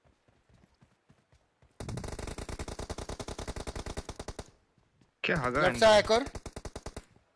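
Rapid automatic gunfire in a multiplayer team-deathmatch shooter game, with a long steady burst of sharp close shots, a short pause, then a second burst. A player talks briefly over the shots.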